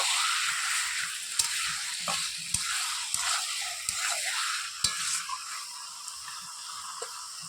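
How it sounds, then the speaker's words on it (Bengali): Chicken pieces frying with spices in a pan for Bengali chicken kosha, a bright continuous sizzle with intermittent clicks and scrapes of a spoon stirring, close and unaccompanied by speech. "চিকেনটাকে ভালোভাবে মশলার সঙ্গে মিশিয়ে নেব"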